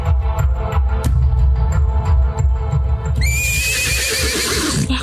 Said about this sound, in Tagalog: Narinig ko na naman ang ingay ng mga kabayo.